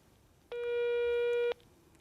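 Telephone line tone sounding while a radio show host tries to call a poet by phone: a single steady electronic tone holding for about one second, clear and alone against faint background hiss.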